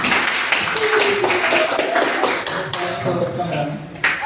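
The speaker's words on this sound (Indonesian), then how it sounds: "Sekali lagi tepuk tangan untuk kita semua." Students in a classroom clap together for the groups who presented their discussion results, a dense patter of hand claps running throughout under a teacher's voice.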